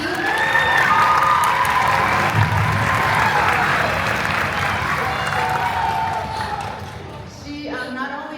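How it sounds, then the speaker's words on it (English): Audience applause with some cheering fills a room at a summer strings camp, honoring the accompanist; steady clapping and crowd noise carry on for about seven seconds before fading, with a voice talking near the end. "Please give her a round of applause."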